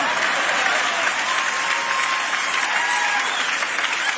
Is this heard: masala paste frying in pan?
no